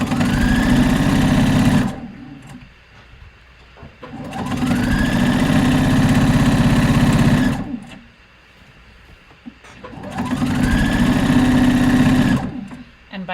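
A sewing machine top stitching along a seam runs in three long loud bursts with short quiet pauses between, close up, a voice faintly audible under it.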